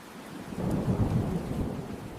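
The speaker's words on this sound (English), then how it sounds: "it just started raining" Steady rain falling, a dense hiss with a low rumbling undertone, fairly loud and continuous with no voices.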